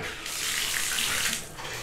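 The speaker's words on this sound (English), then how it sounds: "So I'm just gonna run some cold water through it" Cold water runs through a shower fitted with a thermostatic shut-off valve, a steady close hiss of spray that swells briefly and then eases off.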